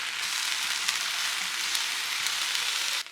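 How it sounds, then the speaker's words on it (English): Ground turkey and vegetable paste browning in a skillet with about a tablespoon of oil, giving a loud steady sizzle with faint stirring scrapes throughout that drops off abruptly at the end. "I'm browning that in a skillet with about a tablespoon of oil."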